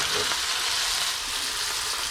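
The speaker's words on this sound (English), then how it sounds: "You want it hot so you hear that sound of that butter" Steady, bright sizzling of butter in a hot cast iron skillet, a continuous crackling hiss filling the whole moment with no talking.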